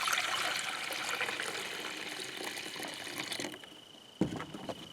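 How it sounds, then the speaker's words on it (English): A pan full of water poured out while decanting ore tailings, a steady splashing trickle that runs for several seconds, then stops and ends with a short slosh and a couple of drips, heard close up and fairly quiet. "I'm going to decant 1 pan full of water."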